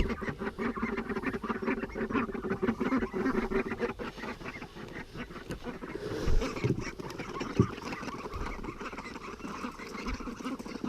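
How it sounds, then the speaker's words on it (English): Ducks quack in a busy, overlapping chorus throughout, with scattered honks and a couple of sharper nearby calls. "Release the ducks!"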